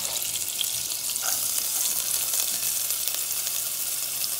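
Onions sizzle steadily in a little oil in a pan as the base of a Puerto Rican sofrito, a constant bright hiss that stays alone throughout with no talk.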